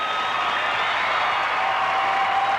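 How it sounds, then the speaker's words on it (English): A hall audience claps in a steady, dense wash of applause that runs evenly throughout, with no voices standing out. "a big round of applause for Scott"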